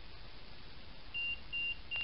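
Inside the Bassano Imperial Hunter Hotel, three short electronic beeps sound at steady intervals, each a thin, level tone, faint above a soft background hiss in an otherwise quiet room.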